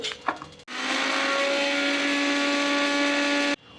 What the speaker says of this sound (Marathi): एक चमचा जिरे आणि एक चमचा ओवा हे दोघं आपण आता मिक्सरमध्ये छान बारीक करून घेऊ